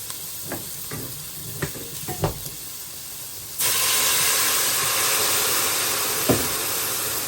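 Swiss chard cooking in a pan: a few light stirring knocks over a soft hiss, then water hits the hot pan and a loud, sustained steamy sizzle takes over for the rest.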